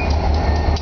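Housatonic passenger train on the Berkshire Hills route, heard for a brief moment as a steady low rumble of rolling railcars nearby, with no voices.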